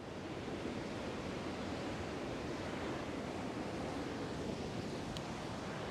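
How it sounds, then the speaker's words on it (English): Ocean surf rolling in along a city waterfront, a steady broadband wash of breaking waves with constant roar and no voices, close and fairly loud throughout. "I'm going to show you the waves because they're pretty special."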